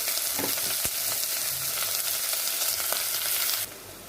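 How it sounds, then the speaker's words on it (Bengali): Onions frying with two bay leaves in hot oil in a pan for a homestyle mutton dish, a steady bright sizzle close up with a few sharp clicks of stirring, cutting off abruptly near the end. "পেঁয়াজগুলো দিয়ে ভাজছি।"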